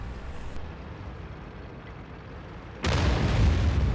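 Tank ammo rack explosion in World of Tanks on the Mines map: a muffled low rumble, then a sudden loud, sustained blast that bursts in near the end.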